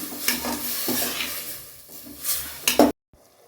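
Tomatoes softening in a pot while being stirred for a one-pot rice and dal dish: scraping spoon strokes and clinks against the pot over a soft steady sizzle, close and fairly quiet, then a sudden stop.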